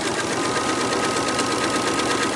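A sewing machine stitches a fabric placemat with white thread, dark green side up, making a steady, close mechanical whir with fine rapid pulsing that runs unbroken for a couple of seconds.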